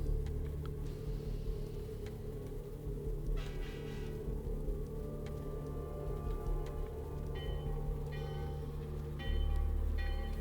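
Trains in the video game Vampire the Masquerade Bloodlines rumble continuously with a deep low drone, with metallic rattles and clanks scattered over it and a heavier surge near the end.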